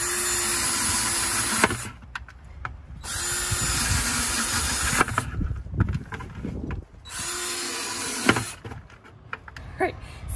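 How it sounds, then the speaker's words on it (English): A power drill whirs loudly in three long bursts, drilling holes in a plastic bucket, separated by brief pauses and clattering handling noises, close by with no talking. "I'm gonna go ahead and start drilling a bunch of holes in this"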